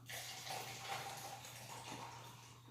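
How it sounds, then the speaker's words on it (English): Sprite soda pouring into a glass, a soft steady fizzing and splashing pour lasting a few seconds, faint and close, with no voices. "let me pour my Sprite"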